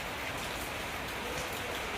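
Steady rain pours down outside a home, a dense, even hiss of drops striking surfaces that continues unbroken throughout, with no voices.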